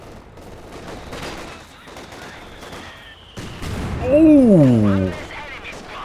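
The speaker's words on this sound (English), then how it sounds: "Rifle nade and mortar hitting at the same time" Rifle grenade and mortar shells exploding together in a Company of Heroes 2 battle, a loud burst of blasts and gunfire rising near the end, with a man briefly exclaiming over it.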